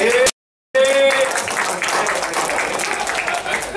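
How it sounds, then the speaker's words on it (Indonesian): Congregation clapping hands during a sermon, a brief dropout followed by steady crowd applause with a voice rising over it at the start. "tepuk tangan dong"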